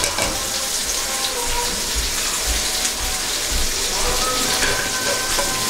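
Green chillies frying in oil give a steady, loud sizzle and crackle without a break, a constant hiss with small pops running throughout.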